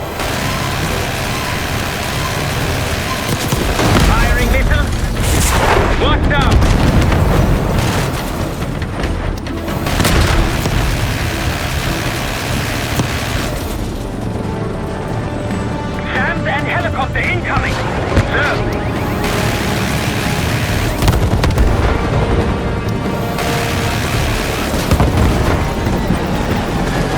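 Missile explosions and gunfire in the Black Ops 6 campaign: loud, dense booms and blasts layered over a constant roar of combat, with voices shouting over the noise.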